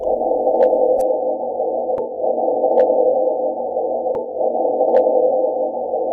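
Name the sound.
Mars wind and seismic vibrations recorded by a seismometer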